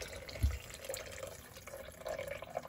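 Water from a kettle tops up a cooking pot in a caravan kitchen, a soft trickling pour lasting a few seconds with a small bump near the start.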